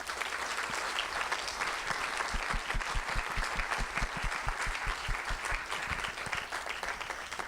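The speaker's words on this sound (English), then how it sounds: "So this is the time to give these candidates one more round of applause for coming." A round of applause from the audience for the candidates at a Petaluma mayoral and city council candidate forum, many hands clapping in a dense, steady patter that carries on for several seconds before easing slightly.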